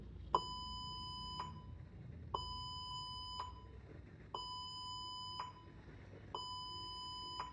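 A buzzer in an IoT circuit simulation sounds a clear electronic beep that switches on and off at about one-second intervals, four steady tones with gaps between them, alone over a faint low hum.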